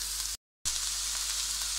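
Onions frying gently in a pan, being dried out without browning, a steady broad hiss holding evenly across the short stretch apart from a brief gap of silence.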